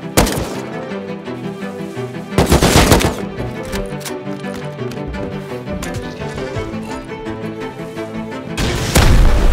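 An automated turret in a video game fires machine-gun bursts, a dense, loud rattle of rapid shots running throughout, with heavier surges partway through and again at the end.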